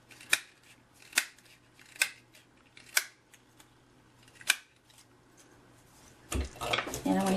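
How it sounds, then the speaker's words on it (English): A small star accent punch clicks through a gold foil sheet five times at a steady pace, crisp and close, followed by paper rustling and handling. "I'm also going to use the itty bitty accent punch pack with the star with the gold foil sheet."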